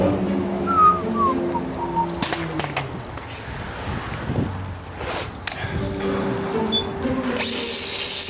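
An angle grinder cuts into a motorcycle lock with a special protective coating. A steady, harsh grinding roar runs throughout with shifting whistling tones and little talk.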